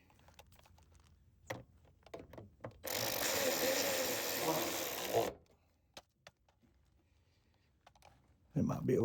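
A power tool runs down side step bolts on a 2024 Toyota Tacoma with one steady whirring burst of a few seconds between scattered clicks and handling knocks, and another burst starts at the end.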